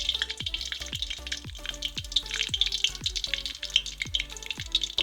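Mustard seeds crackle and pop in hot oil for a Jaffna-style banana flower fry, rapid repeated sharp pops over a steady sizzle, close and lively, with no talking.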